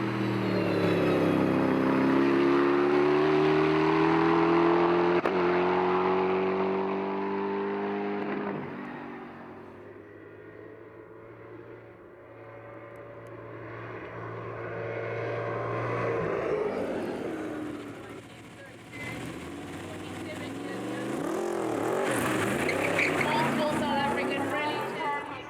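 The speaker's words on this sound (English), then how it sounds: "First up was Mike Beachy Head in his Porsche 917 replica" A Porsche 917 replica race car on a timed Supersport lap, its engine droning loudly and shifting pitch as it passes, then fading and rising again as it comes back, with a commentator talking over it throughout.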